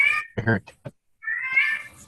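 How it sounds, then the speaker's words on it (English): A pet cat meows twice, first in a short mew and then in a longer drawn-out call, close and clear, with a brief human vocal sound between the meows. "Is that your cat?"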